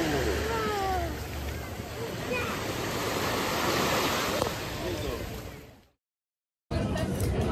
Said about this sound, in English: We're at the beach now.